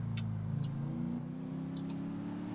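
A car engine in GTA 5 idles and hums steadily as the car drives slowly, a low, even drone with faint, brief high chirps over it. No one talks.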